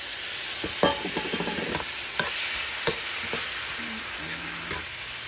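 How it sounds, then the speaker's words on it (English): Shrimp with pineapple frying in a pan, a steady sizzle with several clicks and scrapes of stirring near the start and a few utensil taps later. "I'm gonna add it to my shrimp"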